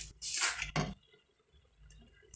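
Water poured into a pot over a wood-fired stove while cooking tripe with potatoes: a short splashing pour, then a second brief gush, followed by faint drips and quiet, close and fairly soft.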